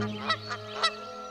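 A goose honks three times in quick succession, short nasal calls over a steady low background hum, fairly close and loud.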